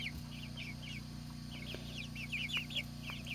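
Turken chickens, a rooster among them, in a homestead coop give repeated short, high clucks and chirps, clustering and growing busier toward the end over a steady low hum.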